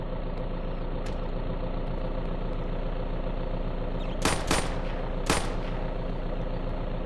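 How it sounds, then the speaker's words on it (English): Three gunshots ring out in the survival video game VEIN, sharp cracks in quick succession, the last slightly apart, over a steady low mechanical drone. "I'm shooting him 3 times."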